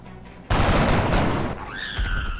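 A single loud gunshot in XCOM: Enemy Unknown, fired from a long-range position: a sharp blast followed by a sustained rumbling burst of fire, then a rising tonal whine of game effects as it fades.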